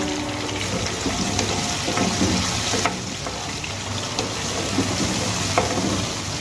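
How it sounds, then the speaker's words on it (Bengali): Chopped tomato and green chilli frying in a pan for a fish curry, a loud continuous close sizzle with a few faint stirring scrapes and no talking. "টমেটো কুচি দিয়ে দেওয়ার পর কাঁচা লঙ্কা টমেটো কুচি আমি 2 মিনিট ভেজে নেব।"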